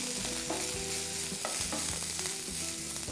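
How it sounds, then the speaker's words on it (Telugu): Onion pieces frying in oil in a covered pan, a steady close sizzle with occasional soft stirring knocks throughout. "మూత పెట్టి ఉంచితే కనుక మన ఉల్లి ముక్కలు తొందరగా మగ్గిపోతాయి."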